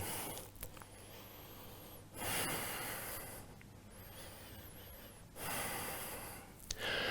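Slow, deep breathing during a vinyasa yoga flow, long airy inhales and exhales in two swells, close and soft with a faint steady hum beneath.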